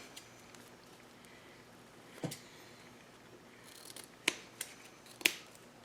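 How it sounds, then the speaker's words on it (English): Scissors snip a thin wire while a ribbon bow is being made, a few sharp close clicks spaced apart against a quiet background. "That little wire did not want to cut"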